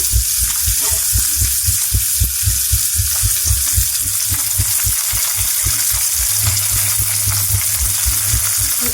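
Chopped onion, green chilies and curry leaves fry in oil in a pan with a steady, loud sizzle and occasional stirring scrapes throughout.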